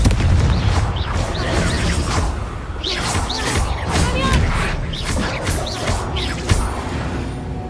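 A Confringo fire spell bursts in the Hogwarts Legacy video game: a whooshing, booming blast amid a steady, dense wash of game sound, with a voice briefly present.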